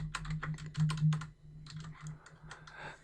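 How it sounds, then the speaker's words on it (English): Quick bursts of typing on a computer keyboard, clustered clicks and clacks in short uneven runs with small pauses between them, close and clear with no talking. "If we type it in"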